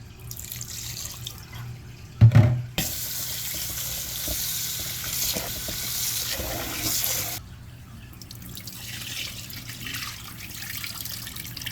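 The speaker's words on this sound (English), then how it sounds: "Some people say they don't wash liver, but I like to wash all my meats." Running tap water rinsing raw liver in a kitchen sink: a clatter near the start, then the stream gushes steadily for several seconds, stops abruptly, and quieter splashes and handling noises follow.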